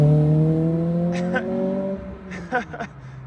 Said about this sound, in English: Yeah, you hear that VTEC so well.